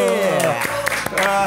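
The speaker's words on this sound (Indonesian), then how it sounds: "Tepuk tangan yang meriah dong." Applause and clapping from a crowd, steady and fairly loud, with voices over it.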